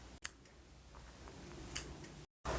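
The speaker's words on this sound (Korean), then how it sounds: "최대한 짧게 나머지 꼬리실은 잘라주세요." Scissors snip the leftover tail yarn of a crocheted beanie close to the knot, giving a few quiet, close, sharp clicks and cuts.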